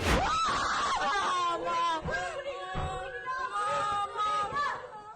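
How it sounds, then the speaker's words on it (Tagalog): Students trapped in a classroom at San Jose National High School in Tacloban City scream and wail during a shooting, several voices crying out at once in rising, overlapping shrieks. "Umalingaw-ngawang iyak at sigaw."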